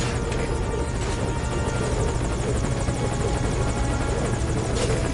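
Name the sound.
helicopter landing in video game Metal Gear Solid Ground Zeroes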